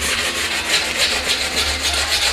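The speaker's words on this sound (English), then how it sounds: "So I very carefully file this down here. One more small layer under here to bring it down to a complete airfoil type shape." A hand file rasps back and forth across a small wooden part being shaped into an airfoil, with rhythmic close-up strokes repeating steadily and no talking.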